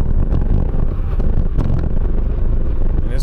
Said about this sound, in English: And it's pretty windy today, so you guys should hear some good wind.